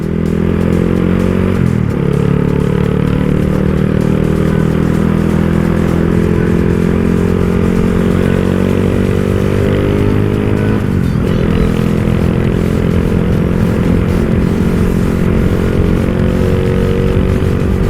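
A Honda Wave 125 LED with a 57 mm piston and 28/24 valves rides steadily, its engine droning close and loud throughout, with brief pitch dips near the start and midway as the revs shift.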